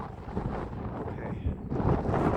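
Wind buffets the microphone outdoors at an RC plane flying field, a rough low rumble that swells and gusts louder toward the end.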